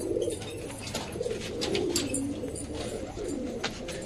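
Pigeons coo softly and repeatedly nearby, low throaty calls overlapping one another against a background of light chirps and rustling.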